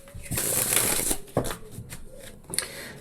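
A deck of tarot cards being shuffled by hand during a reading, giving close, crisp riffling bursts with short pauses between them and no talking.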